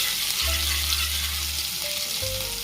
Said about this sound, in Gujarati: આપણે આદુની પેસ્ટ પણ નાખી દઈશું. આપણે એને આવી રીતના હલાવી નાખીશું.